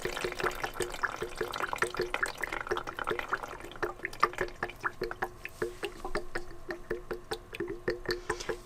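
A brush rinser gurgles and splashes as it pumps water, producing a faint, irregular stream of sloshing and dripping bursts heard alone at close range.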